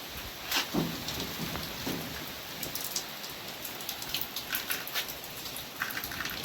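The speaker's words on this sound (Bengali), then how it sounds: "শরতের বৃষ্টি খেয়াল খুশি মতো, এই বৃষ্টি তো এই রৌদ্র।" Steady rain pattering on a surface, with scattered louder drips standing out against the continuous hiss.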